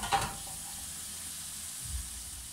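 Potatoes sizzle as they fry in hot oil, a steady, fairly quiet hiss with a brief louder crackle at the start and a low clunk near the end.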